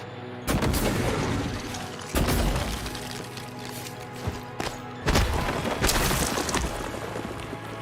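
Deployed turret firing in the video game Prey, a series of loud, sharp bursts of gunfire at irregular intervals, each with a crackling, shattering tail, near and heard without talk.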